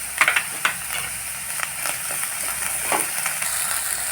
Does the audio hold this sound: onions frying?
yes